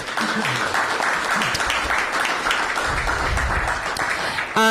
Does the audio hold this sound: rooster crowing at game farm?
no